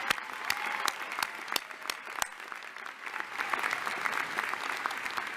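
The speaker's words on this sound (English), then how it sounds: "please join me in a round of applause for all 3 of our student speakers" An audience at a law school convocation claps for student speakers, a sustained round of applause with sharp individual claps up close over a dense crowd wash, no talk.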